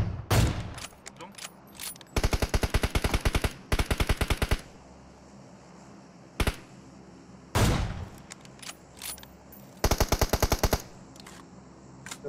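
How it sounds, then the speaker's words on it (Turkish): Enemy automatic gunfire in PUBG Mobile, several loud rapid machine-gun bursts separated by single sharp shots and quiet gaps, with occasional player voices between volleys. "Bunlar kime sıkıyor lan?"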